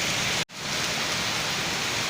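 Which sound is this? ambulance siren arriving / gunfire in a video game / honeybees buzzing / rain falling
rain falling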